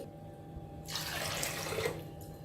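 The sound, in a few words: water running while washing chana dal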